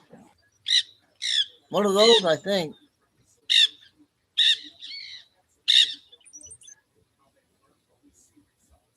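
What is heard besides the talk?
pet bird calling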